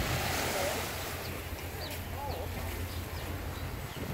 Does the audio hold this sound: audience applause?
no